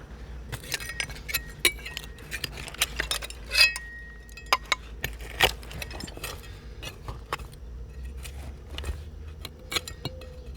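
Heavy old glass pieces, a utility pitcher with a sheaf-of-wheat pattern and half-pint Mikado flasks dug from a buried site, clink and knock repeatedly as they are handled, with sharp close taps scattered across a quiet background.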